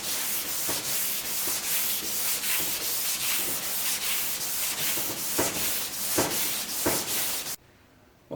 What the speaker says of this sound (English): I'm just going to be sitting here sanding